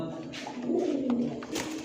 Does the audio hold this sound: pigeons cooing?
yes